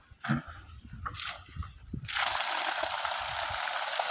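Water from a spray pump gushes steadily in a loud, continuous broadband rush that begins abruptly partway through, following a few brief splashes and faint sounds.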